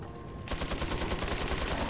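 Enemy gunfire in the Resident Evil 4 video game: after a short quiet start, a rapid, rhythmic burst of shots rattles continuously at moderate loudness.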